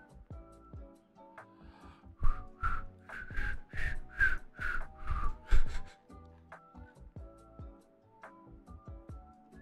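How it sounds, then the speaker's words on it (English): A person makes a failed attempt at whistling, producing a series of about eight breathy, airy puffs with faint tonal edges, close up over quiet background music during a cozy Minecraft building stream. "I can't whistle."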